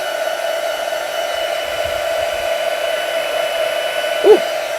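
A hair dryer blows continuously close by as it dries a piece of artwork, a steady whooshing roar with a brief bump near the end.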